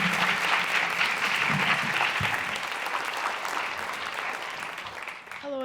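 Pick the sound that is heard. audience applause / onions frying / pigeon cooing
audience applause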